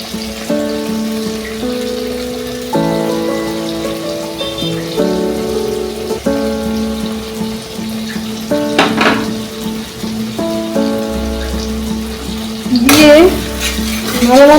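Mustard-ginger paste sizzles and gets stirred in a pan for a spicy mustard fish curry, a continuous frying hiss under background music with a louder burst of sizzling and scraping near the end.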